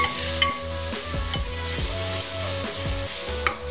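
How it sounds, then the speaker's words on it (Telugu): Cleaned tripe (boti) stirred in a pan while cooking a tripe curry, with repeated scraping strokes under a steady sizzle and a couple of sharp utensil knocks. "ఇప్పుడు బోటిని ఒకసారి కలుపుకోవాలి."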